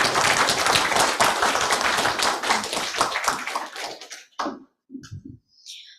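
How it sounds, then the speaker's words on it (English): Audience applause at a building information modelling seminar after a presentation by PT Pembangunan Perumahan: dense, close clapping for about four seconds that thins into a few scattered claps and fades out. "Please give a big applause for PT Pembangunan Perumahan"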